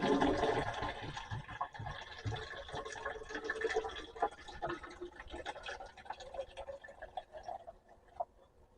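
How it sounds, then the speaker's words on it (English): Water splashes and gurgles into a tank from a dishwasher pump used as a garden pump, a heavy rush at first that thins into irregular trickles and drips as the flow tapers off. "So we'll pour some water in there and see what happens."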